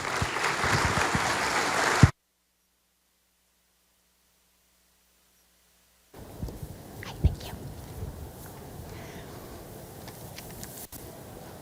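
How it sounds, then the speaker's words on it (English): A conference audience applauds for a keynote speaker for about two seconds. Then comes near-silence, followed by faint room noise with scattered soft sounds. "Give her a round of applause."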